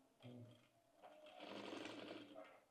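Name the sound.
sewing machine stitching velvet fabric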